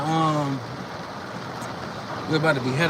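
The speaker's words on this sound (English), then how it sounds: "Rain coming down so heavy right now." Heavy rain pours down during a storm, a steady broadband hiss that fills the whole stretch, with people talking briefly at the start and again at the end.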